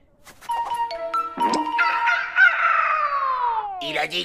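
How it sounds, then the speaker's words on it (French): Chickens in a cartoon scene, a busy run of clucks and squawks with a drawn-out, falling crowing call, loud and close with no speech over them. "Où sont les poules?"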